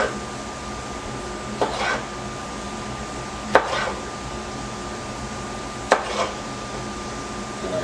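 A dull kitchen knife cuts fresh ingredients for pico de gallo on a cutting board, three spaced, sharp knocks of the blade against the board over a constant background hum.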